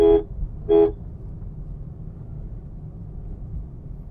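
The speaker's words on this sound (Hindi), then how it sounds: "हॉर्न उसको प्रेस कर दीजिए" Two short car horn toots, evenly spaced, and then a quiet interior engine hum.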